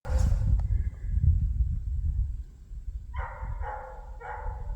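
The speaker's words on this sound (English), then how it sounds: "we got dogs playing over here" Dogs playing in a yard, with a few short barks near the end over a steady low rumble.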